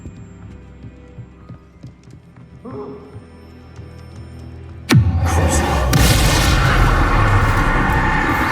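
Bombarda spell blasting in Hogwarts Legacy: after a quiet stretch of low ambience, a sudden loud explosive crack erupts and rolls into a sustained roaring rumble.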